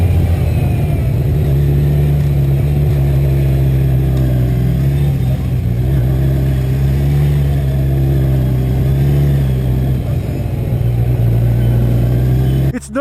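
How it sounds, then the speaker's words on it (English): A 2020 Kawasaki Z1000 liter naked motorcycle drones steadily while being ridden, a continuous loud engine hum with wind noise and slight throttle shifts, ending with a brief drop. "you're riding a liter hyper naked bike"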